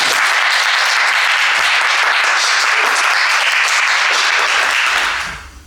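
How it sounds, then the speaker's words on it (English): A loud round of applause from an audience welcoming artists at a gallery artist talk, dense and sustained clapping that fades out at the very end. "a round of applause"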